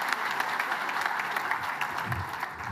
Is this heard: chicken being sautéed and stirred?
no